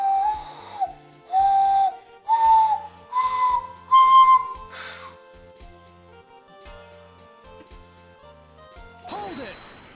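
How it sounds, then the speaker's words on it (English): A person whistles through their fingers in five short, piercing bursts, each slightly higher in pitch than the last, followed by a brief scratchy burst. "you can move your fingers around to make different pitches of the whistle"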